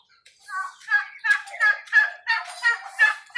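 A turkey gobbles repeatedly in a rapid, bubbling series of warbling calls, close and clear against a quiet background.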